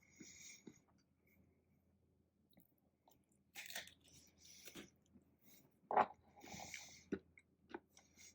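Crunchy chewing of food from a Lithuanian MRE beef stew with vegetables, heard as close, intermittent bites and crunches, with sharper loud crunches near the middle and end and quiet pauses between.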